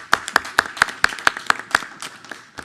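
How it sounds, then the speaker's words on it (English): At a school board meeting, a single nearby person claps in a quick, regular rhythm of about eight sharp claps, with fainter clapping from others trailing behind. "So a round of applause for HR."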